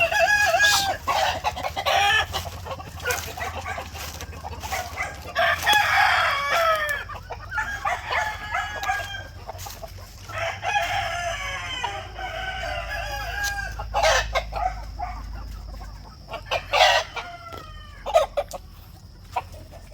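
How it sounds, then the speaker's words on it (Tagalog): Farm rooster crowing several times with repeated clucks and fowl calls in between, close and fairly loud, against a low outdoor rumble. "Ito yung rooster mga ka-farmers oh."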